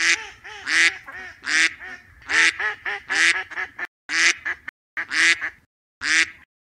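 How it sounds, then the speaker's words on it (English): A duck quacks nearby, loud and honking, in a fast run of harsh nasal calls with a few short pauses near the end. "D for duck."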